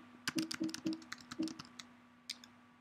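Someone types a short command on a computer keyboard, a quick cluster of close, crisp key clicks followed by a pause and one or two final taps.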